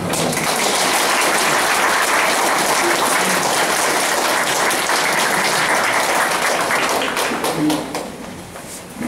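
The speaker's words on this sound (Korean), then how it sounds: "큰 박수 많이 주시기" Members at a redevelopment association general assembly give a loud round of applause for the chair, with dense, close clapping sustained for about eight seconds before tapering off.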